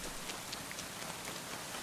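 Steady rain at night in the video game Kingdom Come: Deliverance II makes an even, dense hiss with soft drops pattering on surfaces throughout, unbroken and fairly loud.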